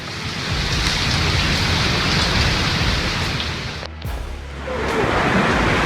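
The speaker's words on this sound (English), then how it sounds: "A wild storm turned everything into a fog, with winds blowing over 50 mph" A wild storm with heavy rain and winds over 50 mph makes a dense, constant roar of rain and gusts, loud and close, dipping briefly before surging back.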